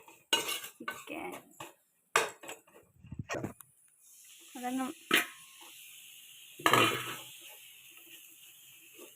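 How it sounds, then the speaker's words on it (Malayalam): A spatula clanks and scrapes against a metal pan as chicken is stirred for chicken thoran: loud, irregular metallic knocks and rattles up close, with brief talk early on and a softer sizzle underneath. "ചിക്കൻ കൂടിട്ട് ചിക്കൻ ഇളക്കി നന്നായിട്ട് മിക്സ് ചെയ്യാം"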